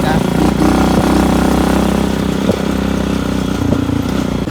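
A motorcycle engine runs steadily and loudly at close range, a constant droning rumble with a few brief bumps and no pauses throughout.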